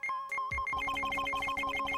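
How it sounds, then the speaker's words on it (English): Steady electronic beeping in a fast repeating pattern from a metal detector in the video game Phoenix Wright: Trials and Tribulations, bright and tonal, with a few low thuds near the start; no talking. "That's the sound of the metal detector's signal bouncing off something metallic."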